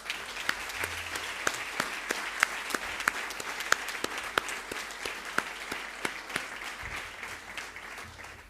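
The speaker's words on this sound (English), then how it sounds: "I think that excellence deserves another round of applause" Steady applause from a large audience at a provincial school awards ceremony, a continuous wash of clapping with sharper individual claps standing out, lasting several seconds at moderate level.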